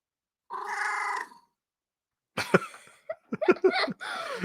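A person on a hockey podcast imitates a cat with a drawn-out vocal meow, followed after a pause by laughter and talk.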